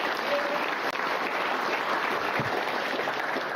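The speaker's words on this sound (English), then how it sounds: "Let's have another round of applause for our breeders." Steady round of audience applause for guide dog breeders at a Guide Dogs for the Blind graduation ceremony, a broad, even wash of many hands clapping with no one talking over it.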